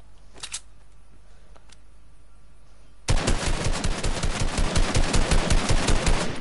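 Rapid, loud shotgun or SMG fire from a video game, a dense stream of shots that starts abruptly after a quiet stretch with a few faint clicks.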